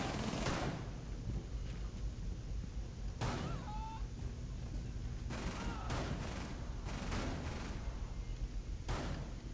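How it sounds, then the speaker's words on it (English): Rapid gunfire from a Rainbow Six Siege match on the hostage map Kanal, coming in repeated bursts of close shots over steady game background noise. "They're shooting at me."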